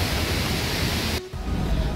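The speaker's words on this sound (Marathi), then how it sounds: "धबधबा जसा जवळ येईल तसा पाण्याचा आवाज आपल्याला मोठा यायला लागेल।" A loud, constant roar of the nearby Barki waterfall, broadband rushing water with a brief dip partway through before the roar resumes.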